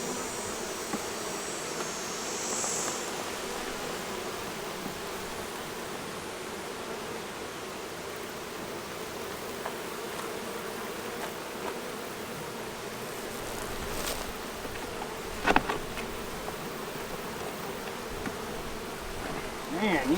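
Honeybees swarm and buzz around an opened hive while a beekeeper works the frames, a steady dense hum filling the whole stretch close to the microphone, with a couple of brief knocks near the end.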